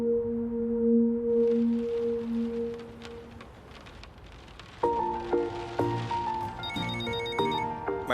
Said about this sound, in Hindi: मैडम, निक्सर का फोन आ रहा है।